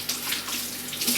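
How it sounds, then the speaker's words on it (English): Carrots are rinsed under a running kitchen tap, a continuous close splashing stream of water hitting the sink. "Now we wash them."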